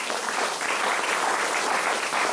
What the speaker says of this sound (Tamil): கைத்தட்டுகளை பார்ப்போம்.